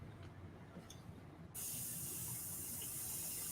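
An airbrush spraying paint starts abruptly partway through, a steady close-up hiss of air and paint that holds at even loudness to the end.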